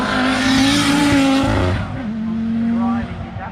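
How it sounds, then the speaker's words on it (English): An Audi Quattro Sport racing car climbs the Shelsley Walsh hillclimb with a loud, strained engine that revs, drops briefly as the driver shifts, then pulls again, close by, under a commentator's voice. "following him will be Andy Kingston, the brilliant Audi Quattro Sport. My God, that sounds fantastic, doesn't it?"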